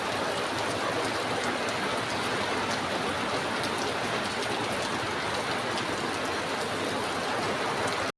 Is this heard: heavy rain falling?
yes